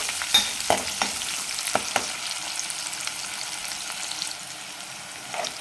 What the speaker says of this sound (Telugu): జీలకర్ర జస్ట్ లైట్ గోల్డెన్ కలర్లో వచ్చే వరకు వేయించుకుంటే సరిపోతుంది